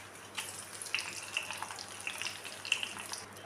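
Cumin seeds, urad dal and chana dal fry in hot oil for a Madurai-style chutney, a faint steady sizzle dotted with small irregular pops and crackles, close by with no talking.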